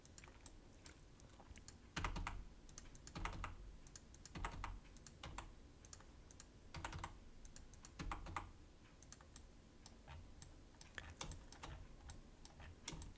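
Computer keyboard keys pressed one at a time for Blender shortcuts while modeling a low-poly forest, sparse crisp clicks with irregular pauses between them, close and quiet, no talking.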